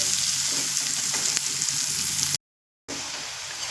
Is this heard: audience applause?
no